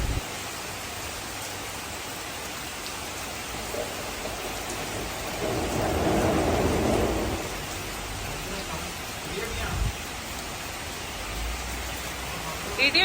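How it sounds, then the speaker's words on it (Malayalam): Heavy morning rain pours steadily while a deep roll of thunder swells midway through, rumbling for a couple of seconds before settling back into the constant hiss of rainfall. "ഇടി വെട്ടിയതാ"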